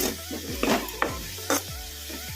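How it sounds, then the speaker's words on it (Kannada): Chopped onions sizzling in hot oil in a pan over a medium flame, with a spatula scraping and stirring in several quick strokes over steady frying hiss, close and fairly loud. "ಫ್ರೈ ಮಾಡ್ಕೊಂಬಿಡೋಣ ಉಳ್ಳಾಗಡ್ಡಿನ ಈ ಥರ ಕಲಿಸ್ಕೊಂತಲೇ ಇರಬೇಕು"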